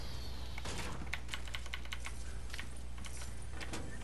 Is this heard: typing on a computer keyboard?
yes